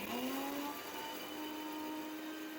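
A mixer grinder runs steadily, grinding cumin with unpeeled garlic and ginger for a mutton kuzhambu paste, a continuous whirring motor drone with a rising whine that settles into an even pitch, loud and close with no talking.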